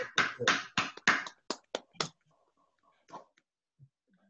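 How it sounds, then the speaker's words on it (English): A handful of separate, crisp hand claps come through unmuted microphones on an online call celebrating a professor's birthday. The claps are quick and close together at first, then a few isolated faint claps follow over near silence. "Everybody unlock your mics, and then a round of applause for him."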